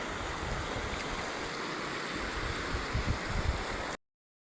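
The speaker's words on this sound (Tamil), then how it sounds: "சோலை ஆற்றில் தண்ணி பெருக்கு போய் கொண்டிருக்கிறது" Steady rushing water of a river at Puliyancholai flows continuously, a broad dense roar like a river current, with no voices, ending abruptly.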